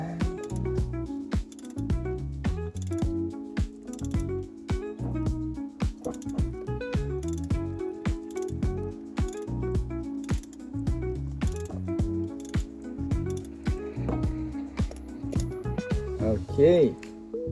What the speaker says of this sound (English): Let's also break loose the filter.